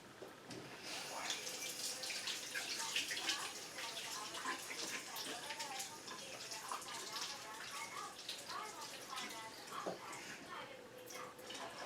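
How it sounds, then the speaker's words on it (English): A kitchen tap runs steadily at a sink as hands are rinsed, the water hiss continuous and fairly faint, with a voice speaking over it throughout. "Rinse off my hands."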